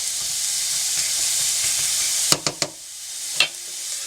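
Onions frying in a pan give a steady bright sizzle, then a few sharp clacks and scrapes of stirring, and the sizzle fades slightly afterward.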